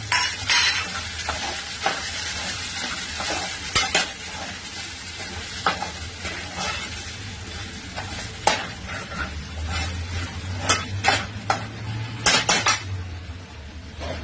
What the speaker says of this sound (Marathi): ती पण तेल कांद्यामध्येच टाकते. मी परतून घेते.